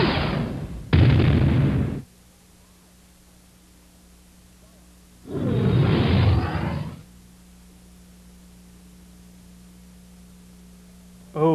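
The Death Star superlaser fires on Alderaan in a Star Wars film: two loud noisy bursts, one at the start and another near the middle, each separated by quiet low hum.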